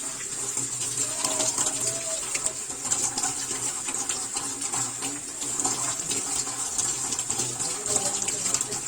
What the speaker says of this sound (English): And now we're going to rinse our hands with water.